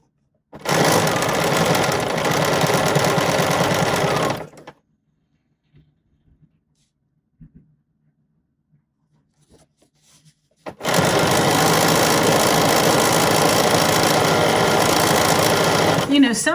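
A BERNINA sewing machine with edgestitch foot #10 runs in two fast, steady bursts of stitching, close and loud, separated by a quiet pause with faint handling clicks.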